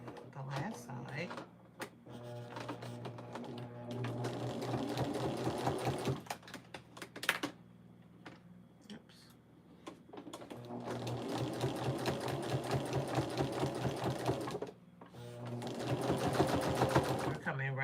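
A sewing machine stitching the binding onto a quilt, running in long, steady rapid-stitch bursts with short pauses between them, while a person talks over it.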